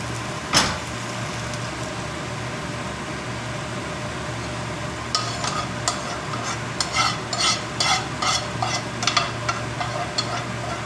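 Fried mustard seed, garlic, ginger, onion and curry leaves being mixed into cooked tapioca, a bright clink at the start followed by steady hiss, then a run of quick, close scraping stirs against the pot.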